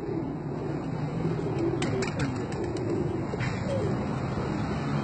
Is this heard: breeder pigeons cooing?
yes